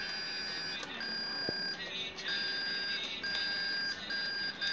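Faint, tinny music picked up by a headphone wire acting as an antenna, a thin continuous tone with slight shifts and a few short breaks, steady and distant, with no talking over it.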